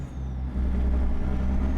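A heavy truck in American Truck Simulator rolls across a bridge, its low engine drone swelling slightly and carrying a hollow, echoing rumble, steady and close throughout with no talking.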